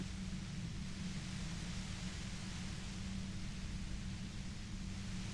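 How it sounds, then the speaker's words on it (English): Steady hiss of white noise, dense and unbroken, filling the entire stretch at an even level with a low rumbling hum beneath it, from the video game Disco Elysium: The Final Cut. "You hear through the white noise. It's especially bad suddenly."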